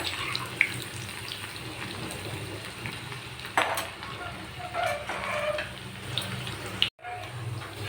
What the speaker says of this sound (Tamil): அந்த பூண்டை அதையே சேர்த்துட்டு அது பொரிஞ்சதும் அதையே எடுத்துடலாம்.